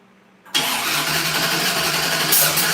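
A 1969 Turbo Valiant's engine cranks on its first start attempt, a sudden loud, steady mechanical churning that holds at an even level and rises slightly near the end.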